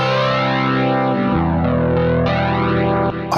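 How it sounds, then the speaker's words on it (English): Electric guitar through a Nembrini Jazz Chorus amplifier app with distortion engaged plays loud, sustained, saturated chords with a swirling chorus shimmer, shifting chords a few times and cutting off briefly at the end. "Bring up some distortion."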